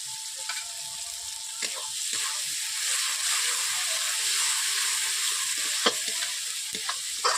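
Mustard paste with ground cumin being fried and stirred in a pan for a Bengali rohu fish curry: a soft steady sizzle broken by sharp scraping clicks of a spatula against the pan at irregular intervals.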